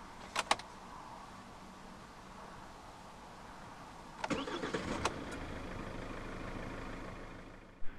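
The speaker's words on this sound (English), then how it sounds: "to start, put your foot on the clutch, insert the key into the slot right here, and twist the key" A couple of faint clicks, then the 1.7-litre diesel engine of a 2016 Kia Carens cranks with the key and catches into a low steady idle, followed by a final click.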